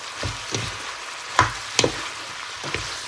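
Pork and Brussels sprouts being stir-fried in a pan with seasoning powder and a little sugar, a soft continuous sizzle broken by several clacks of the spatula against the pan, close up and without speech.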